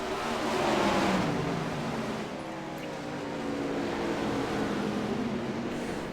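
410 winged sprint cars race on a dirt track, their engines making a continuous loud roar that swells and dips as the pack circles, with no talk over it.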